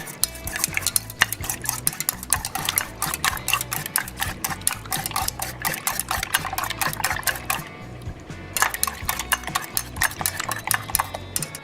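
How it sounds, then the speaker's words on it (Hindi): Four eggs are beaten in a bowl for an anda ghotala, a utensil clattering in a fast, steady rhythm against the bowl, close and busy, with a brief pause midway. "चारों अंडों को तोड़ के फेंट लें।"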